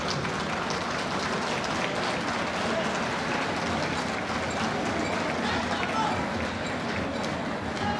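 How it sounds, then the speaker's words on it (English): A quiz-show audience at the NSMQ 2024 final claps for the third-place school, a broad, dense roar of applause mixed with crowd noise that stays steady throughout. "Please clap"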